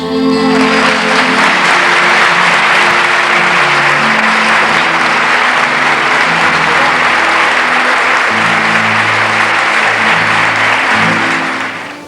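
Sustained loud applause from a crowd greeting falleras parading at a Valencian falla presentation event, dense clapping that fills the hall for about twelve seconds before easing off at the end.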